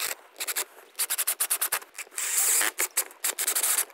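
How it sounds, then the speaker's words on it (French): Screws driven into a DIY wooden shelf by a power screwdriver, heard as close, rapid bursts of whirring and grinding that start and stop in quick pulses, with one longer sustained run midway and no talk. "Et là je vais visser."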